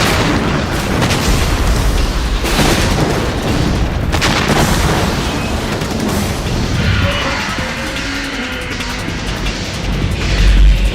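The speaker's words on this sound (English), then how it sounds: "let me shoot a grenade at it" A grenade explodes in the video game Metal Gear Solid 2, with booming blasts over loud, continuous noisy game sound throughout.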